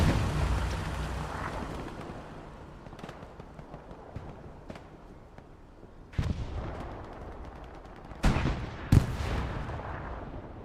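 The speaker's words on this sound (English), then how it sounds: "Looks like we do have a P-Strike coming down." A precision strike artillery barrage in the Hell Let Loose video game lands as a few heavy, booming blasts over a low rumble of battlefield noise. The blasts are spaced apart, and the last two come close together near the end.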